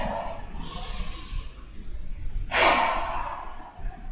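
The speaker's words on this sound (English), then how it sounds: "Take a nice deep breath." A deep breath during a seated yoga class, a soft inhale followed by a louder, rushing exhale, close and alone with no talking.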